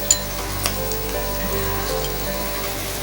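Squid and capsicum frying in a pan, a loud, steady close-up sizzle with a couple of sharp clicks near the start and no talking.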